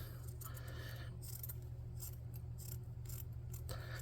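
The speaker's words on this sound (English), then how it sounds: "I was thinking I would just cut some pieces with this" Scissors cutting pieces from a child's towel, several short snipping and scraping strokes over a steady low hum, close and fairly quiet.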